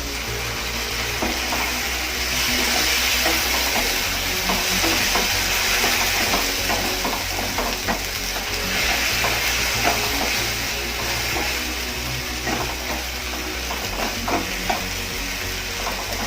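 Chili and ginger paste sizzles and spits in hot oil in a pan while being stirred, a steady loud frying hiss with scraping spoon strokes throughout, no voices.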